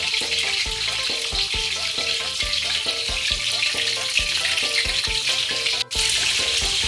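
Pieces of pork for crispy pork fry in hot oil with a loud, dense, continuous crackling sizzle close up, while a rhythmic, repeating pulse runs underneath.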